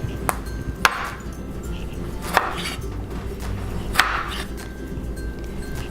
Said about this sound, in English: And then I'm gonna chop up this tomato.